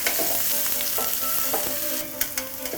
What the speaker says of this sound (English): Curry leaves going in. And we're just going to fry these